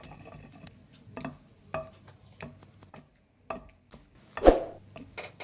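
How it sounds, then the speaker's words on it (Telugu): Okra chutney being pounded in a mortar, heard as a series of separate dull thuds and knocks at an irregular pace, with one sharper, louder strike near the end and quiet gaps between the blows. "ఒకసారి అన్నీ కలిసేటట్టు బాగా రుబ్బుకుందాం."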